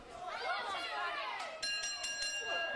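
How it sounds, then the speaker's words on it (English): A wrestling ring bell sounds the end of a round, a bright ringing tone cutting in over crowd chatter and a commentator's talk at a live match. "And there's the bell."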